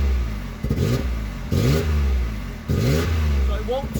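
A car engine with a persistent misfire revs in bursts, rising and falling three times at close range with uneven, stumbling pulses, while someone talks over it between revs.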